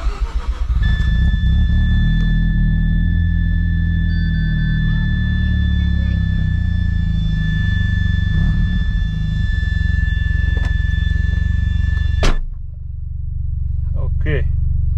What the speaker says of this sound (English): step on the brakes and start up, and I show you the engine